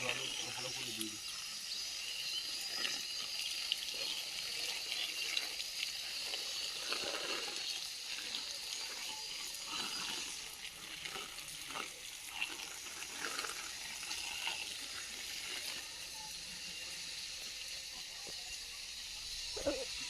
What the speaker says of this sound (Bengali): সব জায়গায় জল ভালো করে দিয়ে দিই।